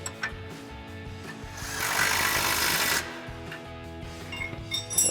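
An 18 mm socket and wrench tighten a nut during a Mammoth 3.5-inch suspension lift install on a Jeep Wrangler JK, with close metallic clicking and a louder, rough ratcheting burst in the middle.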